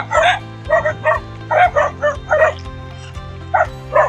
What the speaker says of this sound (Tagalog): Pero mayroon aso, napakaraming aso guys.